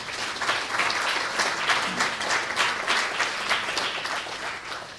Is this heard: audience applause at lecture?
yes